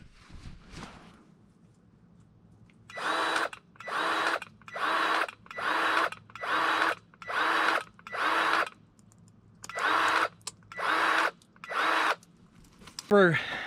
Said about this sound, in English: This auto greaser is kind of handy.